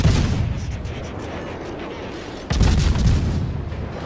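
A warship's main battery fires in World of Warships with a deep, heavy boom, followed by a second loud salvo midway that rumbles on with a low roar.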